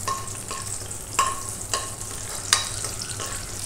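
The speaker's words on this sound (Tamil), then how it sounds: "ஒரு கை அளவுக்கு நம்ம கருவேப்பிலையும் தாளிச்சிடலாம்." A handful of curry leaves tempering in hot oil for a quail and cashew curry, a steady close sizzle with a few sharper crackles and stirring clicks over it, no talking.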